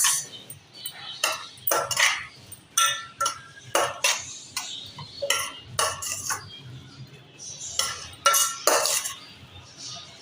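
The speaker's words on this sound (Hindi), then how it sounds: "अब हम इसको कर लेंगे जी मिक्स।" Spoon or spatula clinking and scraping against a bowl while barbecue pizza cutlet filling is mixed with pizza sauce, a steady run of sharp, close knocks and clinks with no talking.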